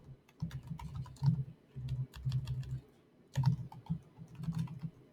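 Bursts of typing on a computer keyboard, keys clattering in quick irregular runs with short pauses between, close and moderately loud in a quiet room.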